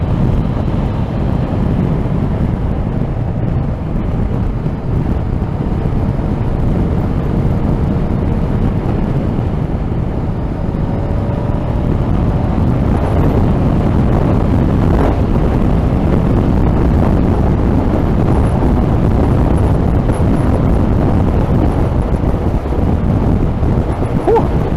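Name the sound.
strong wind blowing outdoors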